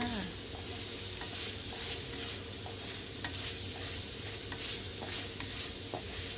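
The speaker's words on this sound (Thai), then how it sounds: "เราก็ใส่พริกลงไปนะคะ แล้วเราก็ผัดให้เข้ากันนะคะ" Roasted chili paste being stir-fried in a pan for Thai nam prik ong, giving a steady low sizzle with soft scraping and stirring clicks throughout, no talking.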